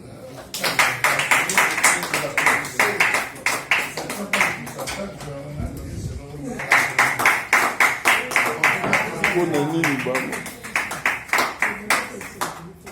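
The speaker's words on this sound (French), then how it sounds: "On continue à applaudir." An audience claps in rhythmic, steady bursts at a coaching event for women football trainers in DR Congo, with a brief pause midway before the clapping resumes, loud and near throughout.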